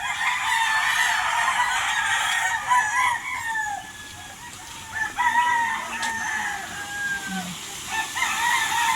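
A flock of noisy chickens and roosters, several long crowing calls rising one after another over steady clucking and background squawks, close and continuous with no talk.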